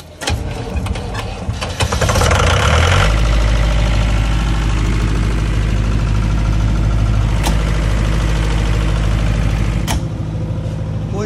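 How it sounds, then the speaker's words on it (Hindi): Tata Cummins diesel engine on a generator set with a Kirloskar Green alternator cranks briefly, catches and settles into a loud, steady low idle that runs on evenly, with a couple of faint clicks. "किर्लोस्कर ग्रीन का ऑल्टरनेटर है सर इसके अंदर, और ये fuel pump, engine control panel, और टाटा कमिंस का इंजन है सर"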